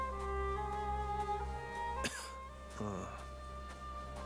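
A couple of short, rough coughs from Zagreus in the video game Hades cut through a steady musical background, one near the middle and another shortly after.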